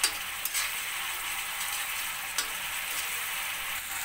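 Spices for vegetable manchurian sizzling and frying in a pan, a steady bright hiss with a few soft clinks and stirring knocks, close and alone.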